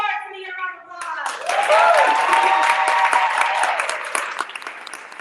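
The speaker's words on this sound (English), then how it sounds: "Give me a round of applause" Applause rises from a crowd at a MORTAR graduation and pitch competition evening, swelling to a full, sustained round of clapping after a voice speaks at the start, then gradually tapering.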